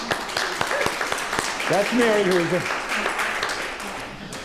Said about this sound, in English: Stand up, Mary, for a round of applause